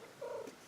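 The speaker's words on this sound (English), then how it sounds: "So my cat came to visit." A house cat purrs briefly and softly nearby, a short low rumbling burst with a faint rise at the end, alone without talk.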